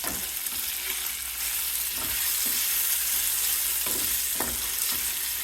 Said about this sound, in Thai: ทางนี้ก็ทอดหมูนี่ค่ะ